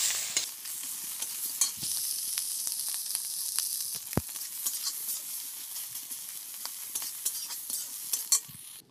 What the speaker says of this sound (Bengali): প্রথমে আমি এই মাছগুলো ভেজে নিই, মাছ আর এই মাছের তেলটা একসঙ্গে ভেজে নিই